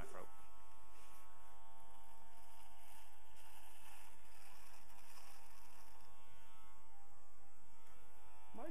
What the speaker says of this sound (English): So anyway, back to shaving.